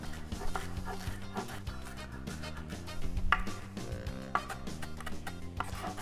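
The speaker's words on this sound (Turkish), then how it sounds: "Hızlıca bunları da doğruyorum." Parsley being chopped quickly with a knife on a cutting board for a Turkish shepherd's salad, a close series of rapid rhythmic taps and knocks with a few heavier strikes.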